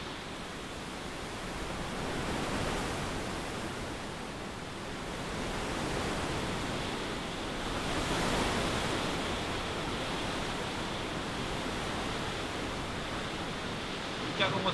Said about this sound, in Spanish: En el mar suena bonito